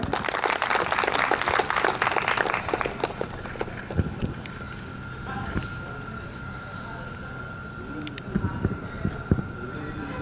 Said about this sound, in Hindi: सभी श्रोताओं से आग्रह है कि वो जोरदार तालियों से सभी अतिथियों का स्वागत करें